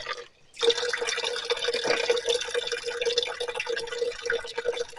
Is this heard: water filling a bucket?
yes